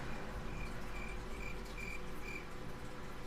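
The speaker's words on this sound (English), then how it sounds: "I heard some crickets." Regular pulsing cricket chirps repeat about five times over a dense, loud background hiss, evenly spaced and steady like a stock sound effect.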